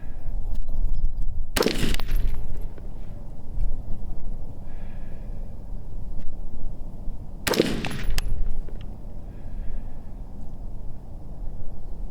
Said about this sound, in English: We're just gonna shoot this 55 grain stuff and see how it does